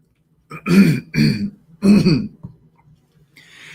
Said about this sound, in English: My allergies are all kicked up here. That's why I'm coughing.